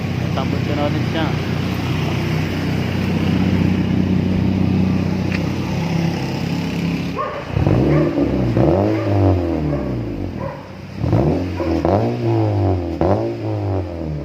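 A Honda Civic FD with a newly fitted HKS exhaust muffler idles with a low steady drone, then revs up and down in several loud, close bursts while people talk.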